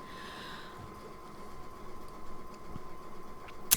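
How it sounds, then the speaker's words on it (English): A sewing machine fitted with an overcast presser foot finishes the curved edges of a fabric face mask, giving a faint, steady mechanical whir that runs for several seconds with no voices. "Finish curved edges with your sewing machine."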